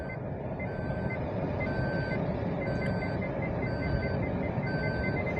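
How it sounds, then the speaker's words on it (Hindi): Steady, evenly spaced electronic beeps of a 2022 Baleno's parking sensor repeat over a constant low engine hum, with no talking. "पार्किंग सेंसर जो है उसका अलार्म भी ऑन होगा,"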